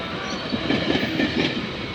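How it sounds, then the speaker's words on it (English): A GO Transit commuter train rumbles past at Mile 32 on the Oakville Subdivision, a steady close roar with faint rhythmic wheel clatter and no voices. "it could be GO train 661 or 601"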